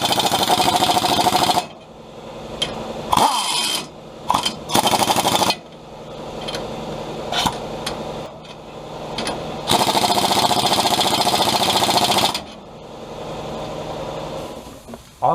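Power tool tightening the U-bolts on the rear leaf spring of a 2010 GMC Sierra during a shackle and drop spacer install, loud rattling bursts of several seconds separated by quieter gaps with scattered clanks.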